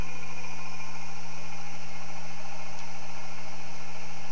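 An experimental three-phase energizer runs with a continuous electrical hum and a steady mechanical whir, spinning at constant speed with no pauses.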